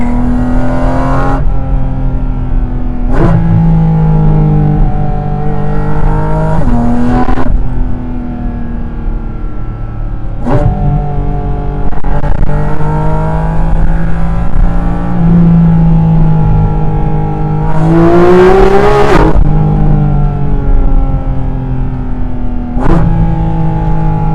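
A Porsche GT4 RS Weissach flat-six engine roars loudly from inside the cabin with windows up, a deep steady intake drone rising and falling as the car pulls through several gear changes.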